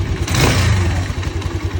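A worn, scuffed Musstang Region 150 motorcycle engine runs steadily at idle, a dense low rumble with a light mechanical clatter and a brief rise in revs near the start, close and continuous with no talk.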